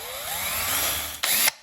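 A power drill whirs steadily as it bores a hole into a Lionel postwar steam engine, close and fairly loud for about a second, then briefly revs higher before stopping.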